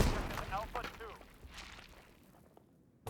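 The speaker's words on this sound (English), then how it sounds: "You can hear all that debris falling," A grenade explodes in the video game World War 3, followed by scattered debris clattering down; the blast hits up front and the rattling fragments trail off into quiet.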